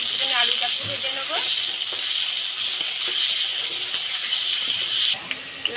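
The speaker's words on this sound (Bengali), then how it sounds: "অল্প একটু নুন, হলুদ দিয়ে লাল লাল করে একটুখানি আলুটাকে ভেজে নেব" Potatoes frying with salt and turmeric give a steady bright sizzle with occasional stirring scrapes and clinks, continuous and close, ending with a brief drop in level near the end.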